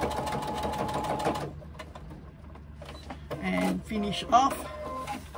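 Sewing machine stitching pieces in place, a steady close whir for the first stretch, then pausing with clicks and mechanical movements as a voice briefly speaks.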